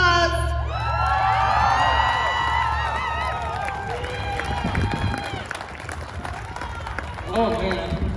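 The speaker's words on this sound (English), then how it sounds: "Massive round of applause" Outdoor crowd at a Black Lives Matter rally in Logan, Utah, cheering and whooping with shouts and yells, loud and sustained, then tapering off.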